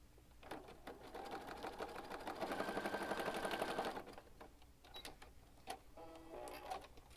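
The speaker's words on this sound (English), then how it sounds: "I'm just going to stitch right across here." A sewing machine stitching across a handmade journal, running in a steady rapid whir for a few seconds before stopping, followed by fainter handling clicks; close but quiet.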